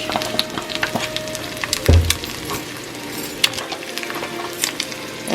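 A steady crackling sizzle of seasoned adobo frying in a small pan, with occasional clinks and a soft knock of utensils nearby.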